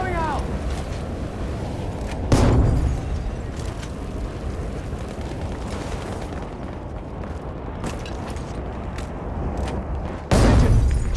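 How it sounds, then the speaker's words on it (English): Two heavy bomb explosions in Battlefield V, one a couple of seconds in and another near the end, each a loud booming burst over a constant roar of battlefield noise with scattered gunfire cracks between. "Bomb going out!"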